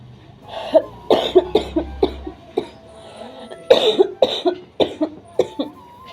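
Someone nearby coughs over and over in harsh, uneven bursts, a long fit of repeated hacking with brief pauses between spells.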